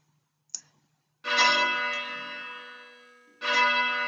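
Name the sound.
simulated church bell rung by pressing keypad key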